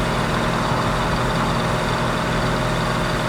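A Ford Boss 302 TASCA car, one of 29 built and fitted with roller rockers, idles with a loud, steady, full-bodied rumble that stays close and unchanging throughout.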